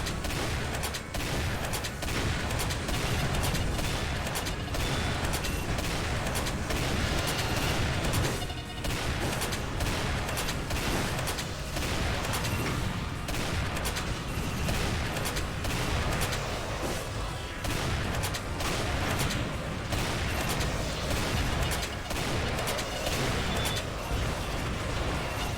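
Relentless rocket fire and explosions in Doom with the Demonsteele mod, a dense, continuous barrage of loud blasts and booms with no pauses, dominating throughout.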